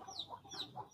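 A chicken clucks softly nearby in a quick run of short, faint clucks, alone and without talk.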